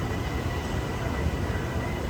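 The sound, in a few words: airport terminal train departing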